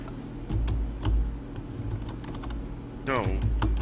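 Typing on a mechanical keyboard, a steady run of clacking keystrokes under continuous talk, with a brief rising whistle-like tone near the end.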